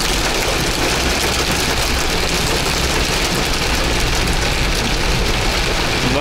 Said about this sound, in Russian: вот это град